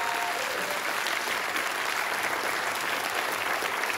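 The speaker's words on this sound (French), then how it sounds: "On peut l'applaudir." Sustained applause from an audience at a live event, dense and steady clapping filling the room throughout at an even, full level with no voices on top.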